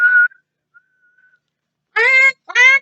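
A voice imitates a whistle being blown, with one short shrill burst, a pause, then two more quick blasts, loud and close.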